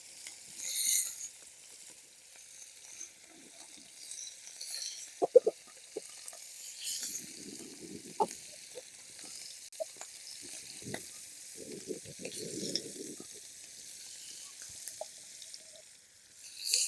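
Prawns frying in hot oil with a soft, steady sizzle and occasional spatula scrapes and pops, a faint, low hiss throughout.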